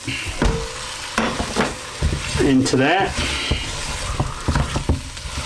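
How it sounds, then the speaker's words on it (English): Lamb sizzles and crackles in a hot pan of curry mixture while being stirred and scraped, with a person talking over the frying. "I'm going to fry that in the mixture until the meat seals"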